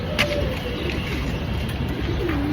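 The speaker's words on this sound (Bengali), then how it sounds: "দেখছেন কি সুন্দর কবুতর" Pigeons coo steadily and close by, a low continuous throaty burble with a constant background hum, and no voices.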